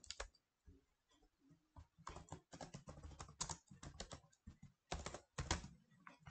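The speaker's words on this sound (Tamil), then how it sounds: "நம்ம ஃபஸ்ட்டு பைத்தான் கோட் வந்து நம்ம டைப் பண்ணிடுவோம்" Python code is typed on a computer keyboard in quick, irregular bursts of close key presses with short pauses between runs, and no talking over it.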